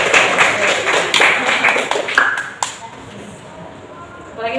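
Students clap together during a school session in an Indonesian junior high classroom, a burst of hand claps that thins out to scattered taps, with voices chattering underneath.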